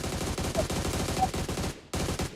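Rapid automatic gunfire rattles in a battle royale video game, a dense, steady burst of shots at close range that breaks off briefly and then resumes.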